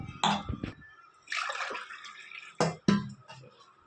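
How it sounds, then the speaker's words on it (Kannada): Water from a glass splashes into a pot in a home kitchen in several separate short pours with quiet gaps between them, close and clear. "ಸೊ ಇವಾಗ ನಾನು ಇದೇ ಗ್ಲಾಸಿಂದ ಮತ್ತು ಐದು ಗ್ಲಾಸ್ ನೀರನ್ನ ಹಾಕ್ಕೊಳ್ತೀನಿ"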